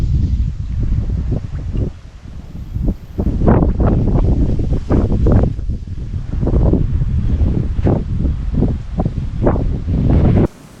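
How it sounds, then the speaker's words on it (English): Strong wind roars on a Gulf coast beach at Sea Rim State Park, Texas, with loud, gusty buffeting over the microphone and waves surging underneath in repeated swells. "These are waves blowing out toward the Gulf."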